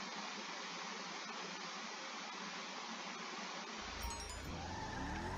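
Declasse Mamba sports car in GTA 5 driving out of a garage, a steady engine drone with a brief tire squeal and a heavier low rumble rising near the end.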